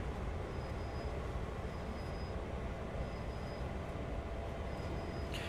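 A freight train in Train Sim World 2 runs steadily through a hump yard as the independent brake is applied lightly, giving a constant low rumble with faint, regularly repeating high tones, and no talking.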